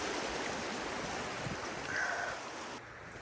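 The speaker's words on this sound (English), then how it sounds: "And this is the little river in flood." A small river in flood rushes steadily in a broad, continuous roar of moving water, close and even, with no talking.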